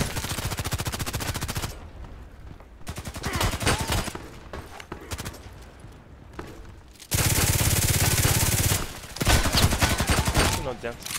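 Pistol gunfire in the online shooter Contract Wars, rapid loud shots in bursts separated by short pauses, with dense sustained firing near the end over game background noise.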